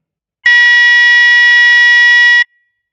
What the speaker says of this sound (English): As soon as the time goes, the buzzer is on.